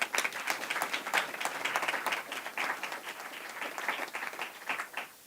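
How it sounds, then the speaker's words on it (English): Room applause at a Food is Medicine healthcare luncheon: steady, fairly soft clapping from a seated audience for about five seconds, tapering off at the end. "Please give them a round of applause."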